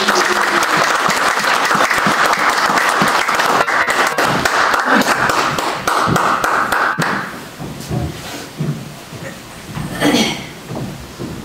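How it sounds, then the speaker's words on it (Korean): A church congregation gives loud, dense applause to welcome deaconess Lee Min-hyang to the front for her testimony. The clapping holds strong for several seconds, then thins and fades as a voice begins speaking. "여러분들 큰 박수로 함께 환영하며 맞아주시기를 부탁드리겠습니다"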